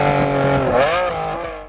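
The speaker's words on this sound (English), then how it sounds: "unleashing 651 horsepower and a symphony of high-pitched mechanical fury" A Ferrari Enzo V12 engine revving hard, a loud, high-pitched mechanical wail that sweeps upward and then falls away as it fades, heard alone.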